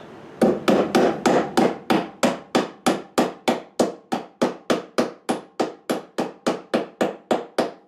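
Cable staples are hammered in to secure electrical wire while wiring cellar light fixtures, about two dozen sharp, close hammer strikes in a steady, even rhythm, each ringing out briefly, with no talking.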